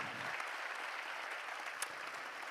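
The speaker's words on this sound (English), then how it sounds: "Let's give Irish one more round of applause" Sustained applause fills a banquet hall at a charity ministry gathering in Manila, even and fairly soft, continuing steadily with no voices on top.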